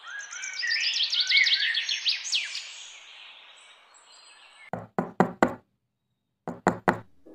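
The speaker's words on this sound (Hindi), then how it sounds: "प्रथा ऋषभ, दरवाजा खोलो जरा जल्दी।" Two loud bursts of knocking on a door in a Hindi TV drama home, a quick group of four raps followed by three more, coming after a stretch of chirping birdsong ambience.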